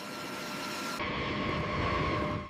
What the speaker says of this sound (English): The air is thick with exhaust as the engines spool to full power for takeoff.